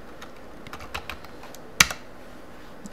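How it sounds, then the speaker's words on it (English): Someone types a short command into a Linux terminal on an Ubuntu 11.04 computer, producing a handful of light, quick keyboard taps followed by one sharper, louder keystroke. The sound is close and there is no talking. "So I'm just gonna type GIMP."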